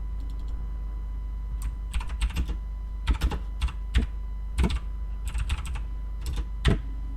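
Keys clatter in uneven bursts as someone types on a computer keyboard, crisp and close, with short pauses between quick runs of keystrokes and no voices.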